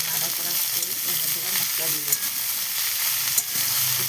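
Potato and cauliflower pieces fry in hot oil in a pan, giving a loud, continuous sizzle with occasional stirring clicks, close up and steady throughout.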